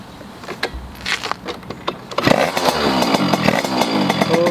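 A Derbi DRD Pro motorbike engine sputters through a few short attempts, then catches and runs with a raspy, buzzing idle and revs close by.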